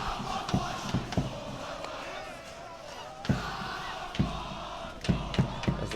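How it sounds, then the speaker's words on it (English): Spectators crowd the sidelines at a school field hockey match between Rondebosch and SACS first teams. A broad, continuous crowd roar carries sharp, scattered stick and ball hits, and a commentator talks over it. "The crowd loves up again."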